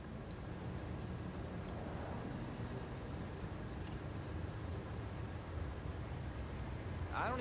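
Steady rain falls in the open-world crime game Mafia 3, a dense, even hiss of drops on surfaces that holds at the same loudness throughout with no talk over it.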